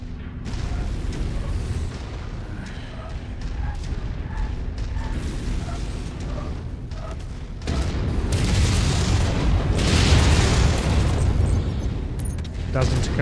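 Missile explosions and heavy booms rumble through combat in the mech game Dragon's Gambit, a dense, continuous barrage that swells louder midway, with a voice speaking over the noise early on.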